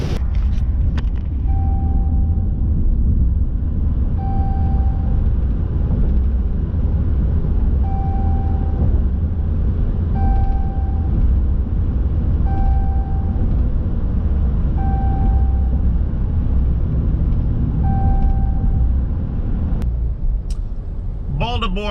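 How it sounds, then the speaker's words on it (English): Rush hour traffic on the Baltimore Beltway, heard from inside a moving vehicle as a steady, loud road rumble with periodic short tonal beeps from the cabin, continuous throughout. "Baltimore Beltway rush hour traffic."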